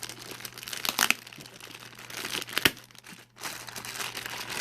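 Crinkling, tearing and crunching of packing tape and cardboard as a taped-up box holding a Canon VIXIA HF R700 camcorder is pried open, close and fairly loud with a few sharp rips.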